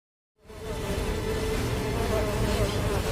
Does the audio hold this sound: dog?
no